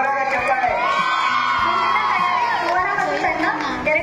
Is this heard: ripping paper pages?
no